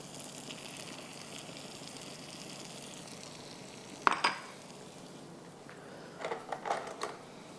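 Breadcrumbs toasting in melted butter in a pan, a steady low sizzle with a sharp clatter of a utensil against the pan near the middle and a few quieter scraping stirs toward the end.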